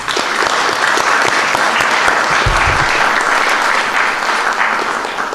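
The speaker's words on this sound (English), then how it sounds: "Let's have a round of applause." Sustained loud applause from the audience at a city council meeting after a unanimous vote, dense steady clapping lasting several seconds before tapering slightly.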